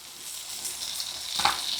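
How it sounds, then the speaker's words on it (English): Half an onion sizzling in butter in a pot for chicken pot pie orzo, a steady close hiss with one brief louder crackle or stir near the end, no voices. "So we're going to add our half an onion."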